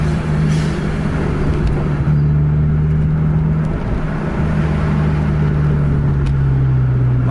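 Tour bus speeding along a highway at about 130 km/h, trailing closely behind a Scania, with a steady loud engine drone and continuous road roar throughout, no talking.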